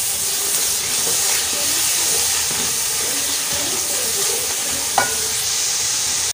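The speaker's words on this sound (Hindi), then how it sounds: "कुछ इसे मिक्स करते हैं" Beef with spices being stirred in a kadhai, with steady sizzling and hissing throughout, scraping stir strokes, and a sharper clack near the end.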